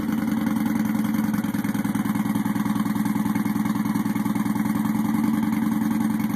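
A 2009 Star Midnight Warrior motorcycle with a Vance and Hines Big City baffle idles after a cold start, a steady, even, loping exhaust pulse throughout with no talking.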